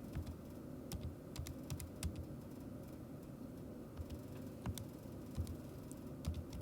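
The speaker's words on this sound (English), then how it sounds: "let's type it in." Fingers tap numbers into a calculator, giving a series of light, irregular clicking keypresses close by over a constant low hum.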